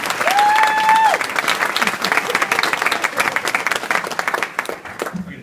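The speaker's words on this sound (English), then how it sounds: "We got a cheering section out there." An audience applauds at a hall of fame induction, with dense clapping and a brief whoop at the start that slowly thins out toward the end.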